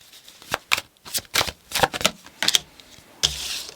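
A deck of tarot cards is shuffled by hand in a series of crisp riffling bursts, roughly eight quick separate flurries with short pauses between them, close and clear with no talking.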